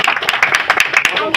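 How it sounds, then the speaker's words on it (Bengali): An audience at a Saraswati Puja 2025 gathering in Konnagar claps hands in a brief, dense burst of applause, with a voice talking over it. "জোরে একটা হাত তালিও।"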